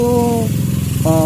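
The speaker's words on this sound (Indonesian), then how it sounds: "motor ini berebet" A first-model Honda Vario 110 scooter with an electrical fault idles loudly and close, its steady engine drone briefly faltering into an uneven sputter before picking back up.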